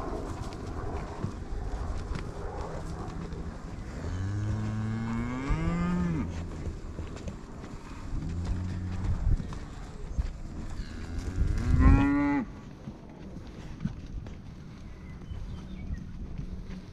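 Cows on a farm give several long, deep moos, two drawn-out calls early and a louder one later, against steady outdoor background noise.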